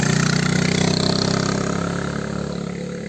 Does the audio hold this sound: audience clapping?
no